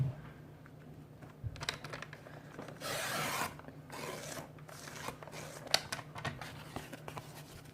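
Scissors snipping through a strip of washi tape during wallet crafting, a short close crisp cut amid soft rubbing and handling rustle.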